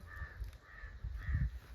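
A crow near a farm caws three times in an even rhythm, fairly close and clear against quiet rural background noise.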